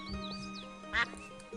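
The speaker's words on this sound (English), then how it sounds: "It's a rather unspectacular duck." A duck quacks once in the adventure video game Escape from Monkey Island, a short, bright, nasal call that rises over a faint game music backdrop.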